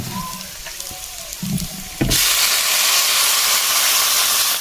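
Water poured into a hot pan of cooked-down potatoes, a few clinks and scrapes giving way to a sudden loud, sustained hiss of steam close by.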